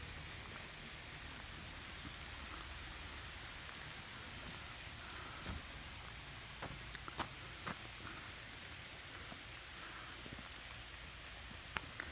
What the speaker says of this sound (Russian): Дождь просто адский какой-то.